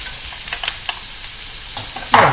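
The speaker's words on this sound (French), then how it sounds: "Et maintenant, je vais mettre donc mes oignons" Onions and mushrooms hit hot oil in a pan, giving soft crackling sizzle and stirring scrapes, then a louder burst of frying at the end, close and fairly quiet.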